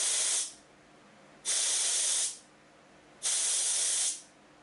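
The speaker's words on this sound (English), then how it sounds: "So this button right here allows me to purge it." A scuba regulator purge button pressed three times, each release a sharp, loud hiss of air lasting about a second, separated by short quiet gaps, close up with no talking.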